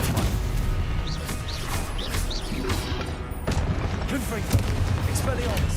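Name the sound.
Stupefy spell cast in the Hogwarts Legacy video game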